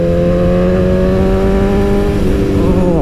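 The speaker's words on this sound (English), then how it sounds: "Engine just purrs, man. BMW, I guess." A BMW S1000RR track motorcycle engine pulls steadily under acceleration, its loud, close, sustained harmonic whine holding even and then rising in pitch near the end, with no voices over it.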